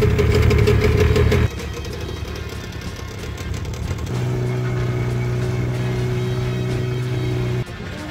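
A small boat's engine runs steadily on an early-morning crossing to Padar island in Indonesia, a loud continuous droning hum that shifts to a lower, smoother steady tone partway through, with no voices.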